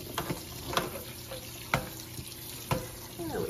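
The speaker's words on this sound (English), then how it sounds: "So you just give the beans a good rinse." Cold tap water runs steadily into a kitchen sink as beans are rinsed for a slow-cooker chili, broken by a few sharp knocks and clatters.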